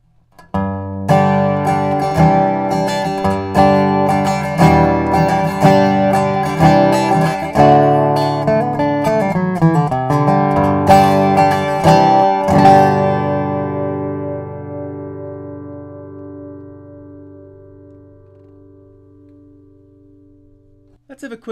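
Beard Odyssey acoustic guitar strummed and picked with a flatpick, bright rhythmic chords for about twelve seconds, then a final chord left ringing and decaying for several seconds, heard alone.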